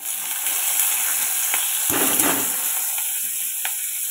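Raw onions dropped into a wok with black cumin (kalo jeere) hiss into a loud, continuous sizzle, with a brief burst of stirring and spattering midway and no talk.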